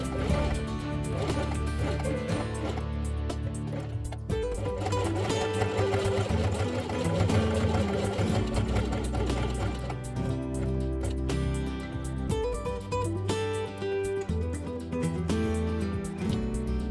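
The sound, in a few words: sewing machine stitching fabric with red thread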